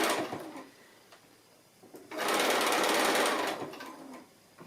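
A sewing machine stitches simple rectangular mini quilt pieces, with a short opening run, a pause, then a steady burst of stitching lasting over a second before stopping.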